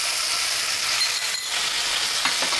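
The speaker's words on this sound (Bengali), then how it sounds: "এটাকে দিয়ে এখন আমি একটু নেড়ে চেড়ে পেঁয়াজটাকে একটু লাল লাল করে নেব" Chopped onion sizzling loudly in hot oil in a pan with bay leaves while being stirred, a steady close hiss with faint scraping, no talking.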